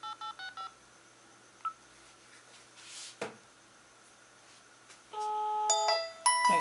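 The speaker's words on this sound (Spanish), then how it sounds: "Vamos a hacer la llamada." Mobile phone on the Telcel network placing a call: a short burst of quick keypad dialing tones, a pause with faint handling noise, then a longer run of overlapping electronic tones as the call connects, close and clear with no talking.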